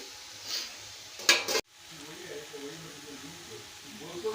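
Potato vegetable cooking in a covered pan: a soft, steady sizzle with stirring scrapes and a short clatter of the lid and metal, then quiet bubbling frying continues close by.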